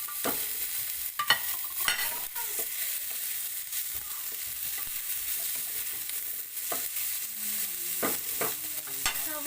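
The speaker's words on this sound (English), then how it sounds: "Then we have to put our green chili, a ginger, and a tomato." Green chili, ginger and tomato fry for squid adobo with a faint steady sizzle, while a spoon scrapes and taps the pan in irregular strokes at close range.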